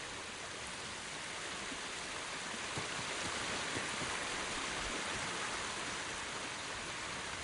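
A waterfall in Ghost of Tsushima roars as a steady, dense wash of rushing water, loud and unbroken throughout with no talk.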